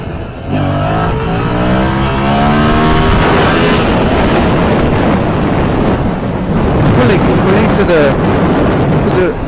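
A Yamaha MT-07 motorcycle engine revs up during a wheelie, rising in pitch and then holding, loud and close with heavy wind noise over it.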